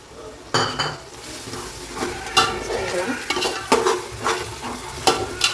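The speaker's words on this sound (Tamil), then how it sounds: "கேர்டு நல்லா ஃப்ரை ஆகட்டுங்க" Curd fries in oil with a tomato masala for chicken biryani, a continuous sizzle under repeated scrapes and clinks of a spoon against the pan. The sounds are close and busy, with no talk.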